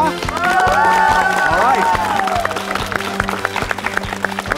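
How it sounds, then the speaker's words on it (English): A studio audience claps and cheers for a schoolboy contestant on a children's quiz show, a steady burst of applause under an excited announcer's voice and music stings, with a host briefly speaking. "Let's give him some applause, huh?"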